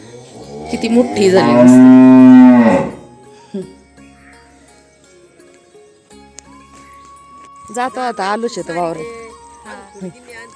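A three-to-four-month-old calf moos loudly once, a long drawn-out call, followed by quieter background and then a voice talking.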